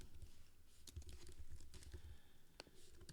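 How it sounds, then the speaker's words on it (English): A computer keyboard clicks as a name is typed, a quiet, irregular patter of close keystrokes with no talking. "let's say I'm going to type in my name."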